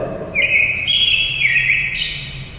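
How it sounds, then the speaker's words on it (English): A single bird, such as a nightingale or robin, sings a clear, sustained whistled phrase that shifts pitch in steps, over a soft background hiss. "the singing birds like nightingale"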